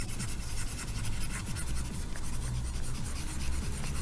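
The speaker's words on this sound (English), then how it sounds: "let me erase all this." Writing being erased from a board during a maths lesson, a steady close rubbing and scraping that continues without pause and with no speech.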